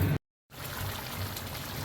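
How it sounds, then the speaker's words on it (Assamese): Water pours steadily into a pot of chicken curry, a continuous close splash and trickle that starts after a brief silent gap and holds at an even level. "এতিয়া পানী দি অকণমান উতলিব দিম"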